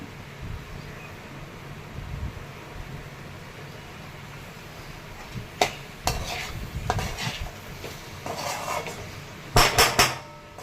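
Potato and okra stir-fried in a pan with a soft, steady sizzle under occasional scraping and clattering of a spatula against the pan, louder stirring bursts near the end.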